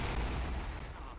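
Heavy booming cannon fire from a cannon tower in the Dungeons 2 video game, a dense, loud rumbling blast that fades slightly by the end, with no talk.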